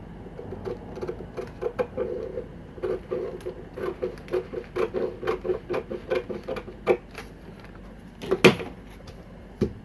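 Fabric for a pleated skirt is cut out with scissors, giving irregular crisp snips and rustling paper-like swishes with brief pauses and a louder handling thump near the end. The sound is close and moderately quiet, with no speech.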